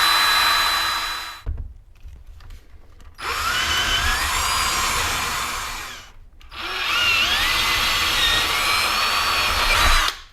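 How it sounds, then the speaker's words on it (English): A power drill with a 1/2-inch bit whirs loudly in three long bursts into a slat wall, its pitch shifting as it bores in, with short quiet pauses between runs. "so then I could use a bigger 1/2 inch drill"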